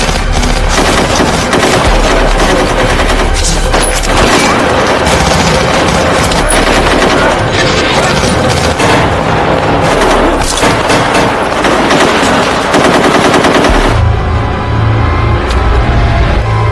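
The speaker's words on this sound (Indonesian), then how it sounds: "teman-teman terorisnya yang tersisa masih beradu tembak dengan para pasukan khusus" Dense, loud machine gun fire fills a gunfight reenactment, with rapid overlapping bursts and booming shots crackling almost without pause, then heavier low rumbling near the end.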